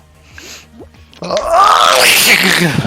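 A sneeze bursts out loudly partway through, a sharp explosive blast with breathy spray, preceded by a quieter inhaled buildup, heard during a Fall Guys gaming session.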